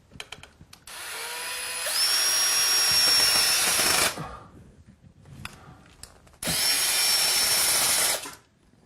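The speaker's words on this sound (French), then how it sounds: "je vais poser les vis de ce côté-là, et la tringle sera fixée" A power drill drives screws into a wall to fix a curtain rod. It runs in two loud, close bursts of several seconds each, with a steady high whine and a short quiet pause between them.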